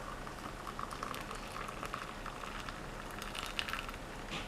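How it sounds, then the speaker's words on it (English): Water at a steady rolling boil in a small pot on a stove, a continuous soft bubbling and crackling hiss with scattered pops, close and fairly quiet throughout. "Now I have my small pot boiling on the stove"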